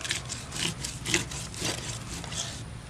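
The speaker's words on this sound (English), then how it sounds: "so you can push down long ways and run it right along the spine." A flexible fillet knife drawn along a fish spine, producing repeated close rasping, scraping strokes in a steady rhythm.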